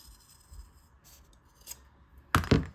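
Scissors snip through fabric for a puffy bow keychain, with a couple of faint snips and then one loud, close crunching cut near the end, with no talk.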